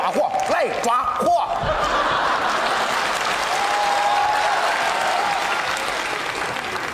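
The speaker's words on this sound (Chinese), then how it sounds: "听见掌声了吗？" Loud, sustained applause from a live audience at a comedy sketch show, a dense wash of clapping with voices mixed in at the start.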